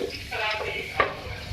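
Whole green cardamom and cloves fry quietly in a pot as a spoon stirs and scrapes against the metal, with one sharper clink partway through.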